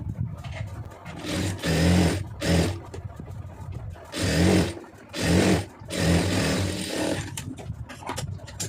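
A sewing machine stitches a plain blouse in several bursts of whirring motor and needle clatter, each a second or two long, separated by short pauses, loud and close with no talking.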